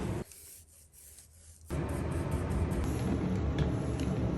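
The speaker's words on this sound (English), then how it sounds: "It's time for a quick scuff sand between paint layers. I'm using 320 grit for this" Scuff sanding painted wood on a nightstand with 320 grit sandpaper between paint layers. A steady, close, rough rubbing rasp follows a short quieter scratchy start and continues without a break.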